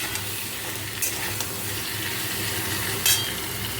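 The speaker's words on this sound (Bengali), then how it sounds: "আলু কুমড়োটা ভেজে নেব" Potato and pumpkin fry in a pan with a steady, close, even sizzle that keeps going without pause, with a faint clink near the end.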